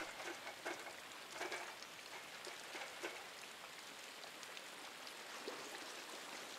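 Steady rain in the video game Inside falls on a farm, a continuous soft hiss with occasional louder drops, constant and close throughout, no talking.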